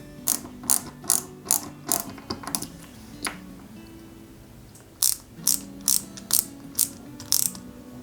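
Two screws are driven into a Peugeot 205 GTI 1.9 model kit with sharp ratcheting clicks in two rhythmic bursts separated by a short pause of softer mechanical fiddling, close-up and with no voices.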